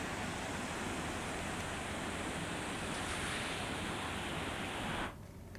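The flooded Dhatarwadi river in Khambha runs bank to bank after heavy rain, a steady loud roar of rushing water with wind noise, ending abruptly near the end.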